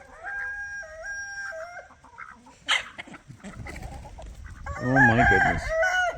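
Farm birds call in a yard, with clucking chickens and a crowing rooster, including a loud, harsh honking burst near the end from a goose, while a woman briefly exclaims.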